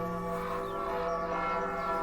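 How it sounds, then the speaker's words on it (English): A bell rings with a sustained, shimmering metallic tone, its overtones hanging steadily in the air at moderate volume, in the video game Tearaway Unfolded. "making the noise ourselves with the bell"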